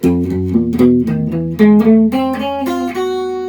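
Single guitar notes played one after another in a finger drill with alternate picking, about eight to ten picked notes at an even, steady pace, bright and close with ringing harmonics, no talking.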